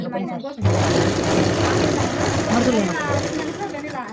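Sewing machine stitching the hem of a blouse, a steady close mechanical whir with fast needle rattle that starts abruptly after a brief pause and runs continuously.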